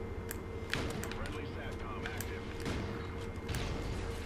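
Gunfire in an online shooter game, sharp repeated shots over a steady game background, the sharpest cracks clustered near the start and middle.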